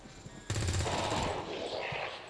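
Rapid bursts of automatic gunfire from the modded strategy game XCOM 2, loud and close, starting abruptly and rattling on for about two seconds.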